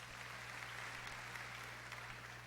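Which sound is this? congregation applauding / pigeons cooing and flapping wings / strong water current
congregation applauding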